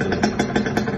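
A Kawasaki Ninja 150 KIPS motorcycle engine runs close by with a steady, slightly clattery idle and regular pulsing beats throughout.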